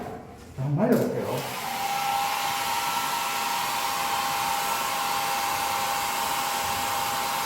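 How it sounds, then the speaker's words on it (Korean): A hair dryer switches on and blows steadily to dry a watercolor landscape painting on hanji paper, its loud, even airflow whir holding constant after a brief click at the start. "자, 이래가지고 드라이기로 의도적으로 말려야 돼요."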